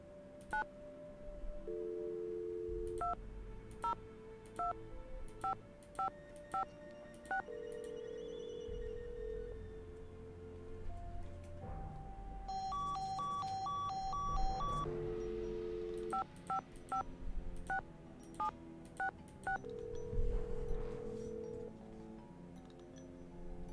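Short telephone dialing tones in the game Nancy Drew: Secret of the Scarlet Hand, a series of crisp beeps keyed one after another in two runs, with a soft background hum between them.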